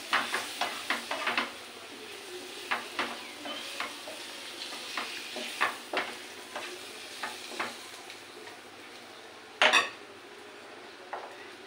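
Eggs stirred and fried in a pan for a home-cooked meal for guests: a steady sizzle under a run of sharp spatula scrapes and clicks against the pan, with a louder clatter near the end.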